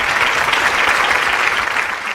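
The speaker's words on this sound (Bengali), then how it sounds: "তাকেও ওয়েলকাম জানাই আমরা করতালি দিয়ে" A studio audience at a student talent show claps to welcome a student, a loud, thick burst of applause that holds steady and thins a little as it closes.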